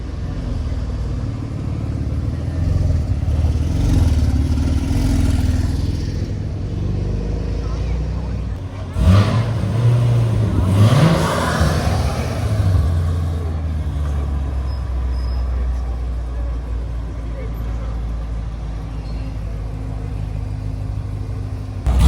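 A Porsche drives past at a Deauville carspotting spot, its engine rumble swelling to a loud pass-by surge midway and then fading, with people talking over the steady background traffic noise.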